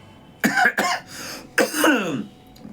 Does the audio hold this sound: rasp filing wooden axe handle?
no